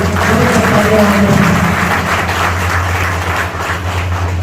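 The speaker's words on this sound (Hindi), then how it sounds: "उनके लिए बहुत तालियां होनी चाहिए।" Audience applause during a company chairman's speech in Chhattisgarh, a loud, dense and steady roar of many hands clapping with a constant low hum underneath, sustained throughout.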